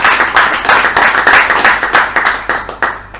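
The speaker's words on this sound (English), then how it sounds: "A round of applause to Alan" Brisk clapping from a small audience at a Toastmasters club meeting in Bangalore, close and loud with distinct individual claps in a quick, uneven rhythm over a few seconds.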